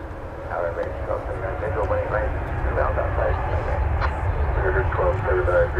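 A Viva Aerobus jet bound for Monterrey, painted in Mexican flag colours, takes off from DFW runway 18 Left, its engines a steady low roar under continuous talking.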